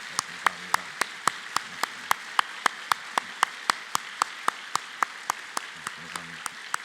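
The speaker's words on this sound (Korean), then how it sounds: "뜨거운 박수로 맞이해 주십시오" Slow, evenly spaced single claps ring out one after another in a church congregation, about three per second, sharp and fairly faint, with a low murmur of voices underneath at the start and end.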